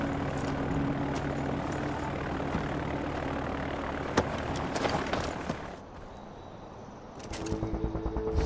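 A plane sits ready to take off in the Far Cry 4 video game, its propeller engine droning as a steady rumbling roar with sharp clanks, dipping briefly then swelling again, no talk over it.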